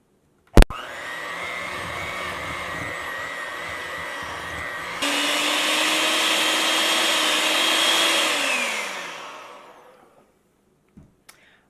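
An electric hand mixer whirs steadily through red velvet crinkle cookie dough, starting with a click, running at a lower speed, then jumping louder at a higher speed before winding down and stopping, with a few clicks afterward.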